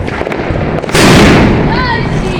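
A Diwali firecracker goes off with one loud, sharp burst that rings out and fades over a second or so, following a stretch of background noise and voices.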